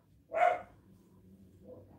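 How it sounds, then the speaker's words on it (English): A dog gives a single short bark in a quiet indoor room, followed by a faint soft whimper a moment later. "Sorry about the dogs."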